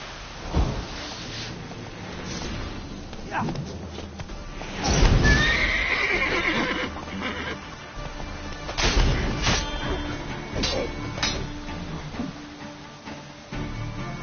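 Horses neigh and whinny at a stable in The Witcher 3 game, with a loud whinny around the middle and another later, set over a steady game ambience with hoof clops and clatter.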